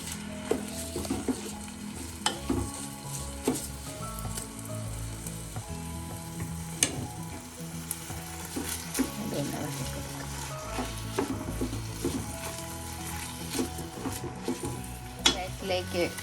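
Kaima (jeerakasala) rice being stirred in hot oil in a pan for chicken biryani, with a steady close sizzle broken by frequent scraping and clinks of the spoon against the pan.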